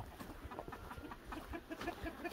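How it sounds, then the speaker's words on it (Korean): Chickens and young chicks in a coop on a natural-farming pine-forest farm, soft repeated clucks and peeps scattered close by over steady barn ambience. "아, 병아리."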